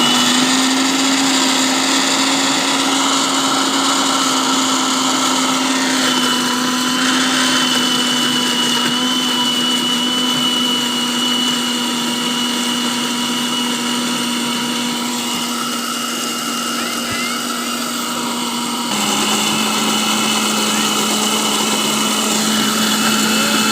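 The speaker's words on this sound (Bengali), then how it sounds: "এখন আমগুলো আমি সুন্দর করে ব্লেন্ড করে নিব।" An electric blender whirs steadily as it purees mangoes for mango sherbet, a loud continuous high motor drone with a slight pitch shift near the end and no talking.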